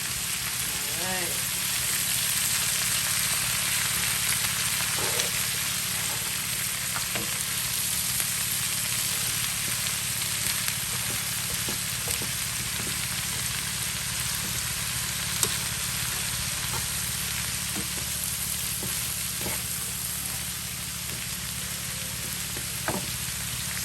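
Chicken frying in oil for escovitch fried chicken, giving a dense, steady hiss of bubbling fat with occasional faint stirring knocks, close and continuous, without voices.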